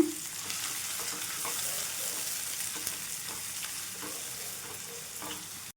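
Three thinly sliced onions sizzle steadily in hot oil in a pan for a chicken curry, with a continuous close frying hiss broken by soft scraping knocks of a spoon stirring them, no talking.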